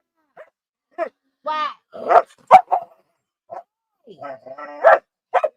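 A dog barks repeatedly in short, uneven bursts close by, several sharp yips and barks spread across the moment, with a person speaking briefly between them.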